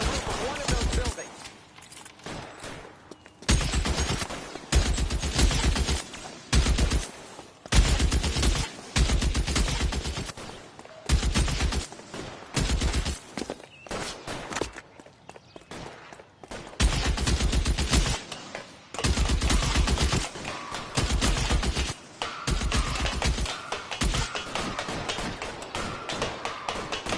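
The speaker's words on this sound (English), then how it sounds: "Shooter has a machine gun." Bursts of machine gun fire in the L.A. Noire video game, a rooftop shooter firing repeated loud rapid volleys with short gaps between them across the whole stretch, with voices occasionally heard between the bursts.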